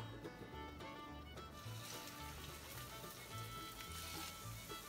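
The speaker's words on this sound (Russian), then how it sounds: "на разогретую сковороду начинаем выкладывать котлеты" Canned tuna fish patties sizzle and spit in a hot frying pan, a steady crackling fry heard up close, with a low background hum beneath it.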